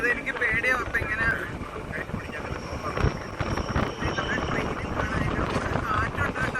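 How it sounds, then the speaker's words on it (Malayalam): Strong wind in the snowy Swiss Alps buffets the microphone with a constant rumbling roar, while voices sound faintly through it. "കാറ്റുണ്ട് കേട്ടോ."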